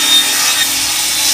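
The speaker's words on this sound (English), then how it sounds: "You're walking up to your miter box saw and you're going to make a cut." A miter box saw cuts through wood, making a loud, close, raspy rubbing sound that holds steady for a moment without a pause.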